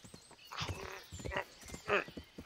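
Horse in the medieval game Kingdom Come: Deliverance, with a few close hoof thuds and snorting bursts that arrive in uneven steps, while someone talks quietly alongside.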